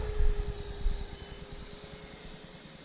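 An RC Freewing Mirage 2000C 80mm jet on landing approach makes a steady ducted-fan whine that fades gradually, with a low rumble of wind buffeting the microphone near the start.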